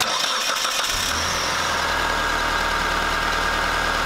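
Car engine cranking briefly then catching and settling into a steady idle, close and loud, during a battery voltage drop test with multimeters, no voices.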